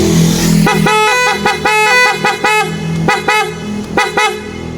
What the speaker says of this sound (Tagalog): yung kanyang malupit na busina